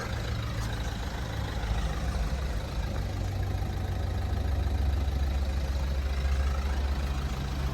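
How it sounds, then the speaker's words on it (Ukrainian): A Renault Laguna 1.5 dCi diesel engine idles steadily with a deep, even rumble and no voices. "мотор працює чітко, рівненько"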